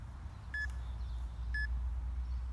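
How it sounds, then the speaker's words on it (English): A workout interval timer gives two short, clear electronic beeps about a second apart, each with a brief higher blip, over a low steady background hum. "I'm gonna start that timer."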